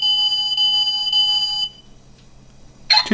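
Shrill electronic beeping from the right door of a 1:20 scale alloy Tesla Model X toy car, a sustained tone that cuts off, then a short burst of beeping starts again after a quiet gap.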